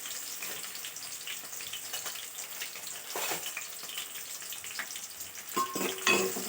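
Onions frying in a pan with oil, a soft continuous sizzle and crackle with light stirring scrapes, growing a little busier toward the end; no one speaks.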